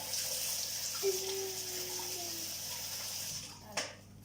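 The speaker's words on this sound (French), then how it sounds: "je vais rincer ça parce que tu l'as léché" Kitchen tap running steadily while a utensil is rinsed during brownie baking, a continuous close hiss of flowing water with a faint tonal whine and a brief clatter near the end.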